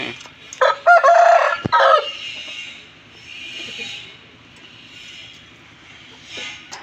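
A Kakinemali rooster with a thick crest, about one and a half years old and four kilograms, gives one loud, close crow near the start, followed by softer clucking and faint farmyard background.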